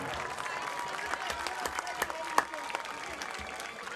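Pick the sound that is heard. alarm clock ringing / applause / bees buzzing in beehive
applause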